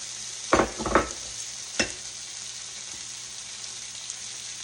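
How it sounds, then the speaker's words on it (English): Onions added to a hot griddle beside steak for a steak sandwich, hissing into a steady close sizzle with a couple of louder bursts as they land and are stirred. "Now I'm going to add my onions since I've already flipped it over to that side so that they can get tender on there."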